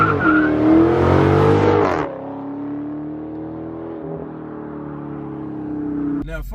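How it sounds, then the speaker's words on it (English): Engine and exhaust drone of a 6.4L Chrysler 300C heard from inside while driving, a loud acceleration for two seconds then a steady lower cruising hum. "Only thing I hear is my exhaust."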